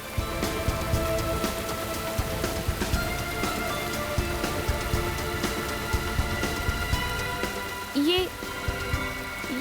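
Rain pours steadily onto surfaces in a constant hiss with scattered heavier drops. Voices speak under it now and then.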